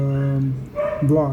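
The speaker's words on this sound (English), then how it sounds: "the barking of the dog in the background" A dog barks and yips in short, loud, close bursts with whimpering tones, overlapping a man's speech.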